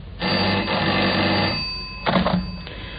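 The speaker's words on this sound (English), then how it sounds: "The telephone rang once again." An old-fashioned telephone bell rings in a radio drama, one long loud ring followed by a shorter second burst, clear and close with no voices.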